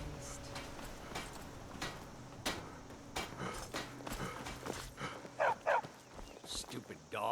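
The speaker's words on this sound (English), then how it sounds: "Stupid dog." A dog barks in Skyrim, a series of sharp, fairly close barks spaced through the scene, with a quick doubled bark near the end and a voice speaking faintly underneath.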